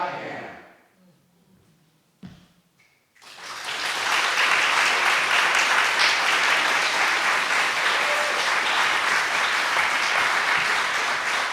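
An audience at a poetry performance breaks into loud, sustained applause that swells after a quiet moment and a few early claps, then carries on as dense clapping to the end.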